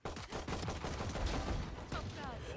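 Rapid gunfire in Valorant, a burst of several close, loud shots in quick succession with brief pauses, with faint electronic game effects near the end.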